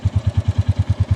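A Royal Enfield Meteor 350 single-cylinder motorcycle engine runs at a steady idle just after starting, its regular thumping pulses close and even, with no talk.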